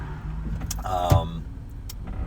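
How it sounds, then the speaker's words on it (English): Wind and road noise fill the cabin of a moving car, a steady low rumble and airy rush with a brief jangle and clatter midway, voices faintly underneath. "Excuse the wind, obviously car ride."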